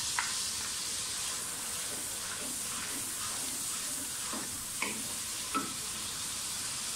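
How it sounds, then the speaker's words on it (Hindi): Browned onions fry with garlic-ginger paste in a steady sizzle with occasional scraping stirs, a continuous hiss filling the background, close by and moderately loud, no talking. "प्याज हमारा ब्राउन हो गया है, साथ ही इसमें लहसुन अदरक का पेस्ट डाल दें।"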